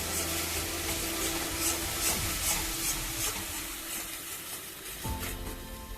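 Coriander powder sizzling in a pan of sautéed tomatoes for a tadka, a steady bright frying hiss with scraping stirs of a spoon against the pan, close and continuous with no talk.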